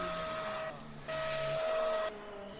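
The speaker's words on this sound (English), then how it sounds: "somebody just turned the vacuum off" A household vacuum cleaner runs with a steady, loud whirring drone and a high tonal whine. Its level and pitch shift a couple of times partway through, and there is no talking.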